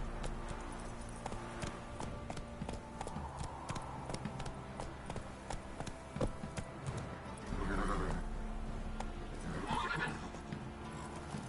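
Horse hooves clip-clop steadily through a game scene in The Witcher Wild Hunt, with two louder neighs or whinnies rising near the end, set over a constant bed of ambient music and environment noise.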